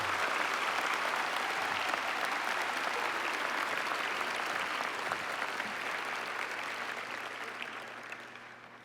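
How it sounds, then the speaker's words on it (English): Sustained, dense applause fills a large hall at a presidential investiture ceremony, steady and full for several seconds before slowly tapering off, with no voices rising above it. "join me in giving him a round of applause that he truly deserves"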